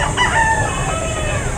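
A rooster crows loudly and close by, one drawn-out call rising and falling over a steady background hum.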